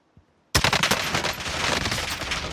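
MP7 submachine gun fire in Warzone, a sudden loud burst of rapid automatic shots after a brief quiet moment, continuing steadily to the end.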